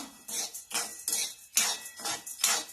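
Sago and barnyard millet being dry-roasted in a kadhai over high heat, a utensil scraping and stirring the grains in five or six rhythmic, fairly loud strokes with brief pauses between, no voices.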